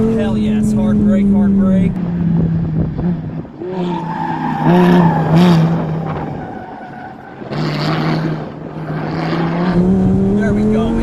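A Lamborghini brakes hard and corners around cones, its tires squealing loudly over the revving engine. An excited voice talks throughout, and the squeal rises and falls across the run.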